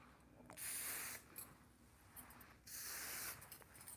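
Several close hissing bursts of heat protector sprayed onto hair, each lasting around half a second to a second, separated by short pauses.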